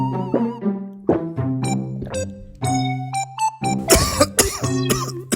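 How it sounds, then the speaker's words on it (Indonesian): A person coughs repeatedly in irregular bursts, close and fairly loud, with throat clearing between the fits and no talking. "Masih batuk"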